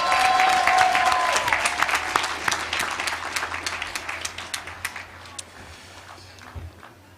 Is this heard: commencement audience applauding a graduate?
yes